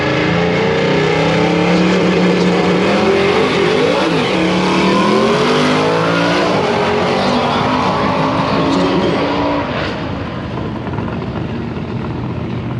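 Alex Taylor's Bad Marrow drag race car at Rocky Mountain Race Week, a loud, sustained engine roar with shifting harmonic pitch that runs the whole span and eases slightly toward the end.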